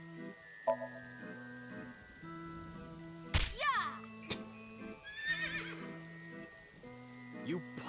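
A merry-go-round horse in the video game AI: The Somnium Files whinnies in one sharp, rising and falling neigh midway through, amid looping carousel-style musical tones and a few light knocks and ticks at moderate volume.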